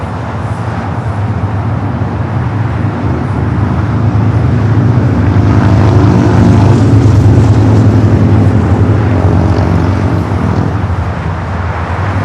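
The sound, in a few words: Emirates Airbus A380 jet airliner flying past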